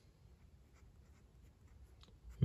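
A Jinhao X450 fountain pen with a medium nib writing in brown ink on paper, a soft close scratchy scrape in short strokes, quiet and alone, ending in a louder knock.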